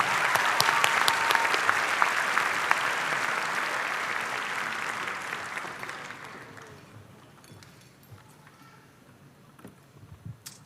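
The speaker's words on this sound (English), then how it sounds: "Another round of applause for our sponsors." High school commencement audience clapping for the sponsors, loud and dense at first, then thinning and fading away after about six seconds into near quiet with a few scattered claps.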